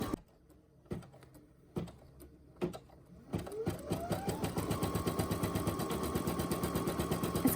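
A Brother NQ1700E or PE800 embroidery machine sewing a tack-down stitch on fuzzy socks: a few separate clunks at first, then a rising motor whir settling into a fast, steady mechanical stitching rhythm close by.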